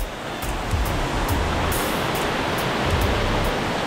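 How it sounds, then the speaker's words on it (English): The Busai waterfall in Mindanao, Philippines roars as a loud, steady, broadband rush of falling water, constant and close, with no voices. "we took Graham to Busai, beautiful waterfall"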